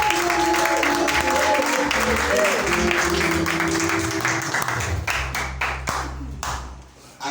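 A church congregation applauds the chancellor, with loud dense clapping and some cheering that thins out into scattered claps and taps toward the end, indoors.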